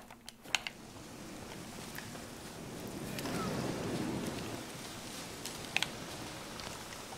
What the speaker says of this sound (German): Ah, jetzt fängt es auch noch an zu regnen!